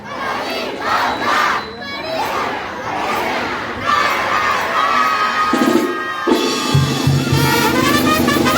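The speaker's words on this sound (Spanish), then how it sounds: "Vamos a un fuerte aplauso a Santa María Magdalena" A festive crowd at a mañanitas celebration honoring Santa María Magdalena roars with loud cheers, shouts and whoops. Near the end a banda starts playing beneath the continuing cheering.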